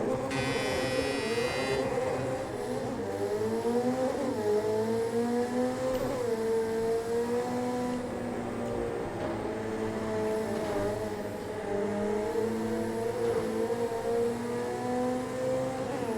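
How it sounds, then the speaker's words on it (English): A steady race car engine in the Project Cars 2 video game drones throughout, its pitch rising and falling with shifts and acceleration, continuous and fairly loud. "Let's see if I can race without hitting any cars."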